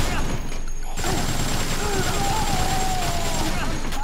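Rapid gunfire from the video game Dead Rising rattles in a continuous dense barrage, loud and unbroken across the whole stretch, with game ambience beneath.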